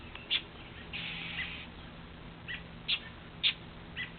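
A bird calling outdoors with short, sharp chirps repeated at irregular intervals against a quiet background, fairly close and alone, with no talk.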